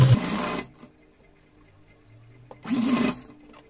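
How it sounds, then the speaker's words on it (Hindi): A sewing machine stitches a folded waistband on a small doll dress, with two close, loud bursts of rapid mechanical whirring separated by a quiet pause. "ये पूरे इसमें कमर में हम घुमा देंगे और ये सिलाई लगा देंगे।"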